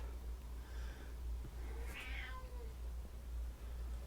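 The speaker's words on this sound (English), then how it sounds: "the cat wants to come in" A cat meows at a door, one drawn-out mid-pitched call rising and falling, heard at moderate distance over a steady low background hum, with no talking.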